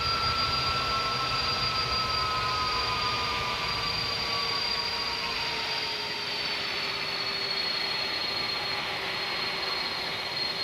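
An airliner in a flight simulator game on final approach to San José, a steady loud engine roar and whine with slowly shifting tones, alone without talk.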